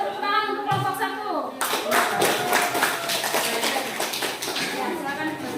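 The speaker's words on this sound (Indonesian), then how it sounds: "Sekali lagi kasih tepuk tangan untuk kelompok 1" Classroom applause for the first student group in a school lesson, beginning after a moment of talk and then continuing as loud, close, fairly dense clapping with distinct individual claps.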